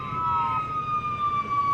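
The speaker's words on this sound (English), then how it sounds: "we got the ambulance coming too" An ambulance siren wails steadily, a high, sustained tone over low rumbling background noise, moderately loud and seemingly a short distance off.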